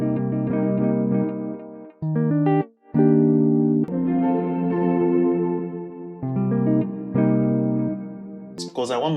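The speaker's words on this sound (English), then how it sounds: "So I'll be adding effects to the guitar like normal," An electric guitar plays an afrobeat-style melody through delay and reverb effects, with sustained ringing notes, short gaps and echoing tails, loud and close.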